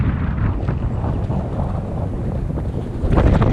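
Strong wind buffets the microphone outdoors during trout fishing, a steady loud roar with rumbling gusts that swell near the end, and no voices.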